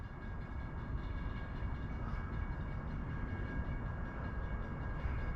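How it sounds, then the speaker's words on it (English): A train passing near a fishing pond gives off a low, steady rumble that stays faint and distant throughout, with no horn. "Hear another train coming."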